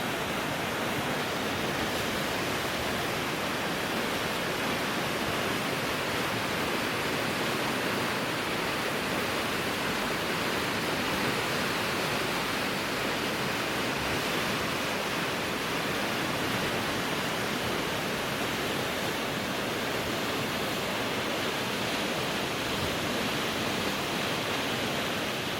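River Medlock rushing in full flow, a loud, steady broadband roar of churning water that fills the whole scene without pause, with no voices.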